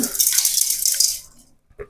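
Water splashing into a pot of mutton paya (goat leg) curry, a loud, close, continuous hissing pour that trails off after about a second and a half, then a short clink.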